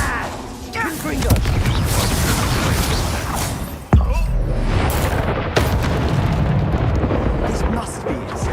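Confringo blasting spell explosions in the video game Hogwarts Legacy, dense rumbling booms with a sharp loud impact near the middle and another burst later, over continuous battle noise.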